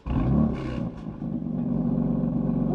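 A stock BMW M4 with the factory BMW Sport exhaust starts and revs, a loud close engine rumble swelling in a sharp blip early, then settling into a steady, low burbling idle.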